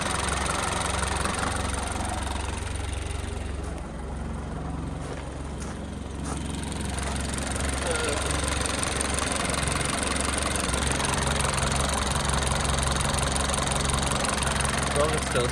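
Jaguar F-Type engine with its air mass sensor missing idles roughly and lumpily, a steady close rumble with an uneven pulse that dips briefly and then carries on unchanged throughout.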